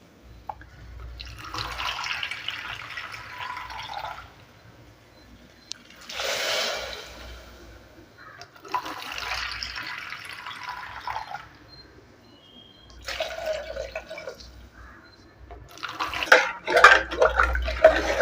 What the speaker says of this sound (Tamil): இதில் ஒரு நாலு கப்பு தண்ணி ஊற்றிக்கிறேன்